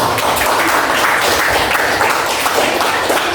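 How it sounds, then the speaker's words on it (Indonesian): Classroom group applauds a presenting group, a dense, even burst of many hands clapping close by, steady throughout with no voices on top. "beri tepuk tangan kepada kelompok"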